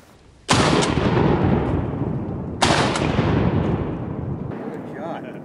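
Two loud shotgun blasts ring out about two seconds apart while duck hunting for mallards in West Kentucky. Each boom trails off in a long echoing decay, and a faint voice follows at the end.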